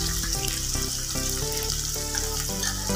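Onion and split garlic cloves sautéing in a pan, a loud continuous sizzle with a steady tonal hum running underneath, and no talking.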